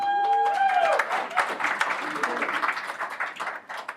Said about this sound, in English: You can tell by that applause that this first sentence applies